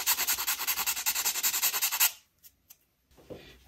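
Plastic 3D printer tool head parts rasped with a hand file: about two seconds of fast, rhythmic close scraping strokes, then near silence with a few faint knocks.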